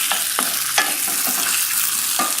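Peppers sizzle loudly in a hot pan while a utensil scrapes and stirs them with quick, irregular clicks, close up and without any voices.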